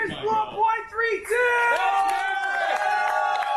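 A crowd cheers and whoops loudly up close, rising shouts and excited yelling swelling together over a few seconds, with voices talking under and through the noise.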